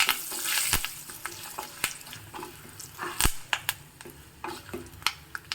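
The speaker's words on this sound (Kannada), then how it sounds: "ಒಗ್ಗರಣೆ ಹಾಕ್ತಾ ಇದ್ದಾಗೆ ಸ್ವಲ್ಪ ಕರಿಬೇವಿನ ಸೊಪ್ಪು ಹಾಕ್ತಾ ಇದ್ದೀನಿ" Curry leaves and dried chillies crackling in hot oil during tempering, a close sizzle with sharp pops and stirring clinks over a few seconds, no voices.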